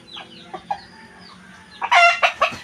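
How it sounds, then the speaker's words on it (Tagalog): Chickens in a backyard coop give scattered soft clucks, then a rooster crows loudly and close near the end, a harsh, ringing call broken into several bursts. "Yan, mga manok."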